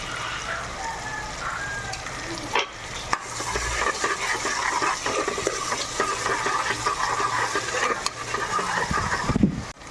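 Vegetables sauté in a hot pan for egg pasta, with a constant crackling sizzle and repeated scraping strokes of a spoon stirring through them, close and fairly loud, with one or two brief pauses.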